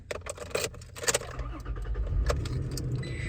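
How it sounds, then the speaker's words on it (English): A 2021 Toyota Tacoma 4x4 pickup brought to life with its keys: close metallic key jangling and clicks at first, then a low engine rumble building up and settling into a steady idle. "Turn the vehicle on here."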